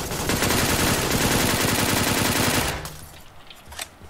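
Rapid automatic gunfire from a fast-firing weapon in a battle royale video game, a loud dense burst lasting about two and a half seconds, then quieter game ambience with a faint click.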